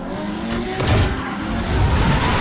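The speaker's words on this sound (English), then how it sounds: "Yeah, you and your fucking rocket boosted car." Batman's rocket-boosted car in Batman: The Telltale Series, a loud continuous engine roar with revving swells and a tire-squeal edge, driving close and steady with no talk.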